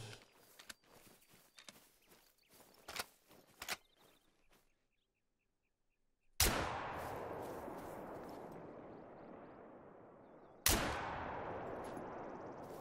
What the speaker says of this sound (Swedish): jag skjuter onödiga skott nu alltså